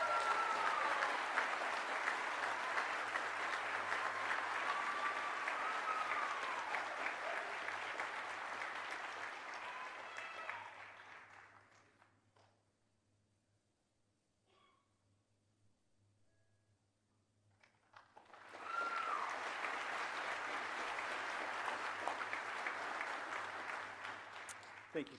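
Graduation ceremony audience applauding award recipients, a sustained wash of clapping that fades to near silence around the middle, then swells back to full, steady applause.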